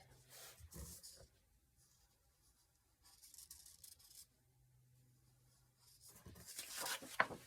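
Quiet scratchy strokes of a Sharpie marker across paper while drawing a stained glass pattern, coming in short bursts with pauses between, close and soft.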